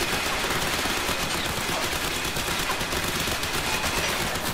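Sustained rapid turret gunfire in Crysis 3, a dense continuous rattle of shots that holds steady and loud for the whole stretch with no pauses.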